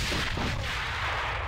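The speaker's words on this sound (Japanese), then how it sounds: "手榴弾を使うぞ。" A grenade goes off in the AVA shooter game with a loud, close, booming blast whose rumble and debris noise fill the whole moment before slowly tailing away.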